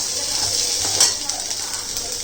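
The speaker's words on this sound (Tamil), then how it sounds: "இது தாளிக்குது." Steady bright sizzling of spices tempering in hot oil for a chicken curry, close and continuous, with a brief clatter of stirring midway.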